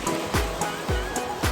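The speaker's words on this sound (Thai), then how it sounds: "ภูเขาและทะเล" Sea waves break on a rocky shore at Khao Laem Ya on the Thai coast, coming in as three or four surging washes in quick succession that swell and recede, close and fairly loud, with no voices.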